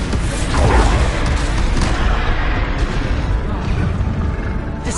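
Bombarda blasting-spell explosions in Hogwarts Legacy, a thick, continuous roar of booming blasts and rumble that stays loud and dense from start to finish.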